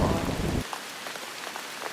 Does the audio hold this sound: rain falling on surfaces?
yes